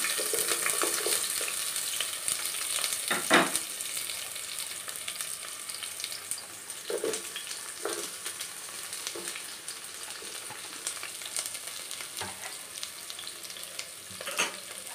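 Onions fry with masala in a pan for chicken biryani, a continuous close sizzle with occasional sharp stirring scrapes and clinks spread across the stretch.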